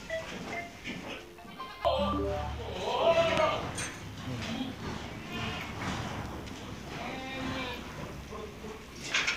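Sojat breed goats bleat at a large goat farm, several cries rising over a busy background of people talking and animals shuffling nearby.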